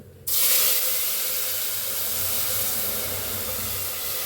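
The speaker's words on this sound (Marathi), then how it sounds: "पाणी ओतूया।" Water poured into a hot cooker holding ghee, cumin and a bay leaf, a loud steady hissing rush of steam and spatter starting abruptly and continuing close up without pause.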